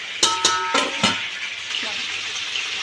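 Eggplant pieces cook in hot oil in a pan, a steady sizzle that runs beneath a few sharp clinks of a spoon against the pan at the start, with a person talking briefly over it.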